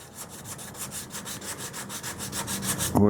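80-grit sandpaper scrubs over glazing putty on the bodywork of a 1929 Chrysler, close, loud rhythmic rasping in quick even back-and-forth strokes, ending with a brief knock.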